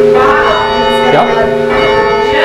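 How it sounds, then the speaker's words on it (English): A tower bell in a memorial bell tower rings out in a loud, close chime, its clapper striking as the swing is checked short. Harmonic tones ring on and sustain across the whole span. "the clapper is still moving and you're stopping the bell and the clapper hits against it. So it's just ding, ding every time you stop the bell"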